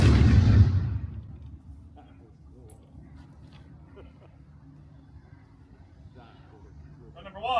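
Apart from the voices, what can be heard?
artillery gun firing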